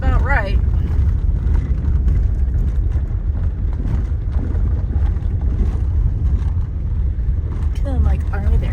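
Car engine and road noise on a drive up to Taylor Lake in Plumas County, California, a steady loud rumble throughout with wind buffeting and brief voices at the start and end.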